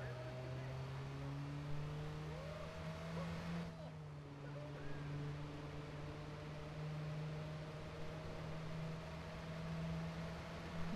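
Car driving in Watch Dogs: a continuous engine drone with a shifting tonal whine, holding steady at moderate level with a brief dip in the middle.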